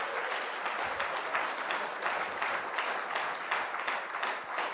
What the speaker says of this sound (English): Let the claps go on.